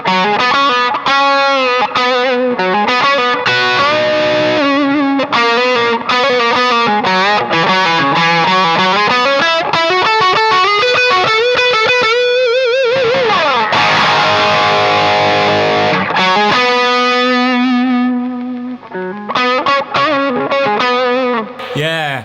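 Distorted electric guitar, a Gibson Les Paul, plays chords and bending lead lines, gritty and loud, with a brief dropout near the end.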